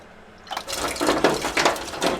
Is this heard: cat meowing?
no